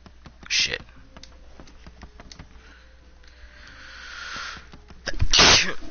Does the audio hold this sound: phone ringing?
no